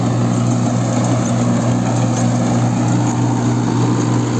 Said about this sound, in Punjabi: ਟਰੈਕਟਰ ਵੀ ਨਾਰਮਲ ਰੇਸ ਤੇ ਚੱਲਦਾ ਪਿਆ